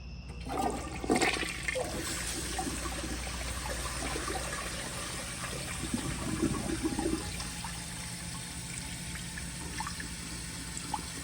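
A 1978 Eljer Emblem toilet flushes in a steady rushing wash of water for the whole stretch, with a louder surge near the start and a trickling, gurgling refill beneath, close and continuous with no talking.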